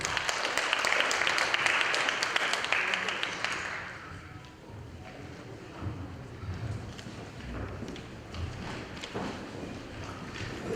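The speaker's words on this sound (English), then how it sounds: "Let's give him a round of applause." An audience at a Portfolio Committee on Health public hearing on tobacco products breaks into a loud, dense round of applause that lasts about three and a half seconds, then fades into quiet room murmur.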